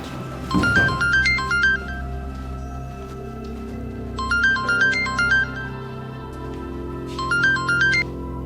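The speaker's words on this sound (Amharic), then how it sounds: "መመለስ ያለብኝ ስልክ" A mobile phone rings with an incoming call, a bright electronic melody repeating three times in short phrases with pauses between, loud and close, with no talking over it.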